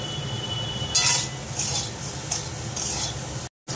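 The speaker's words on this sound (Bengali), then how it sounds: "তারপরে আমি গ্যাসটা একটু বাড়িয়ে দেবো বেগুনটা ভালো করে ভাজার জন্য" Eggplant pieces sizzling in hot oil in a pan on a gas stove, a constant crackling fry with occasional scraping stirs and a metal clink, close up, with a brief dropout near the end and no talking.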